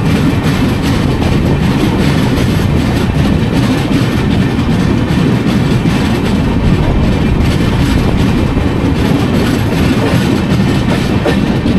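A Thiruvananthapuram–Shalimar express rolls past close by, a loud, steady rumble with continuous clickety-clack of wheels over rail joints throughout, no voices.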